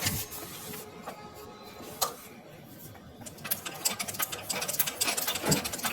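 A sewing machine stitches straight lines on practice paper in a tailoring class, its needle chattering in rapid mechanical bursts that stop and restart, fairly close and moderately loud with no speech.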